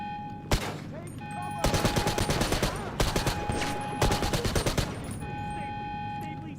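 Rapid rifle bursts in GTA 5 Online, several sustained automatic volleys of sharp cracks broken by short pauses, loud and close with game ambience and faint tones underneath.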